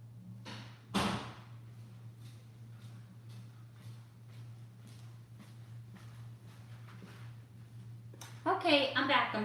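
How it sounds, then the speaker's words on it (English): A bedroom door bumps shut with one sharp thud near the start, followed by faint footsteps and rustling over a steady low hum, then a burst of louder handling noise at the end. "Let me go close my bedroom door."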